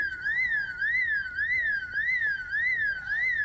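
A house alarm in Project Zomboid wails with a rising-and-falling electronic tone, repeating in a steady rhythmic warble about every half second, loud and alone.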